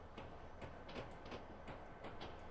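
Train engine rolling past in a train simulator game set on Cajon Pass, a faint low rumble with rhythmic clickety-clack of wheels over rail joints.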